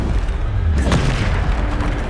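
Depulso force spell hitting in Hogwarts Legacy, a single short booming impact with a low rumble over steady game ambience.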